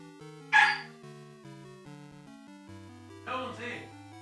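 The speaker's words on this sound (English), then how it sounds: "What are you barking at, LD?" A small dog barks in short, sharp bursts indoors, with whimpering yips between barks, set over quiet background music.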